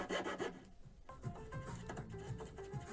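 Rasping and rubbing on wooden dowels being tapered for a farmhouse table, a steady scraping rhythm with a brief pause near the start, close and fairly loud.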